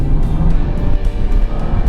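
A BMW 335 fitted with a pedal tuner for sharper throttle response gives off a loud, steady engine drone with a rough, pulsing texture, heard close from inside the car.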